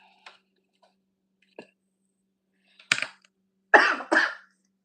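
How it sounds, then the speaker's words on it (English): A few small throat sounds come first, then a person coughs several times in short bursts up close, two harsh coughs followed by a louder pair, with quiet between them. "Thought I had kicked that cough"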